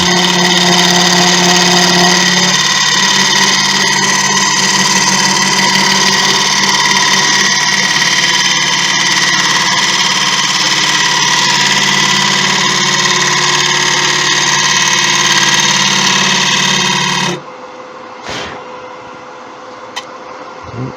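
A wood lathe spins while a gouge hollows out a bowl, giving a loud, steady, tonal whine with a grinding cut that runs continuously for most of the clip and then stops abruptly, leaving faint scattered knocks.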